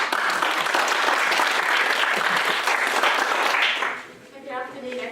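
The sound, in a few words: audience applauding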